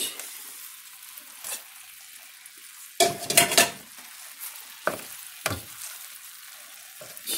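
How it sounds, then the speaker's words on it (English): Drained gnocchi stirred into a pan of mushroom sauce, with a soft steady sizzle underneath and a few distinct scraping, clattering stirs of a utensil against the pan, the loudest burst midway followed by two shorter strokes. "Stir them all into the sauce."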